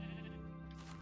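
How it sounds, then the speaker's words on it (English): A sheep in the Minecraft video game gives a single short, nasal bleat at moderate volume, with no talking over it. "Let's kill this sheep as well so we can get some wool for a bit."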